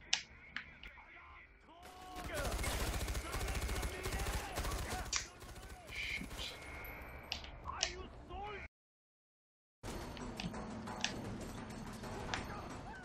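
Bursts of gunfire ring out in the Far Cry 4 video game, rapid shots and clattering effects mixed with game sounds, cut by a brief silent gap before the action resumes.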